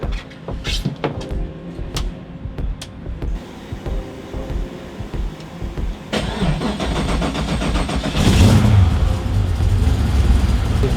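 A 7-liter drift car engine cranks with a few clicks and catches, then settles into a loud, steady rumble and rises into a deep roar near the end, close by, with no talk.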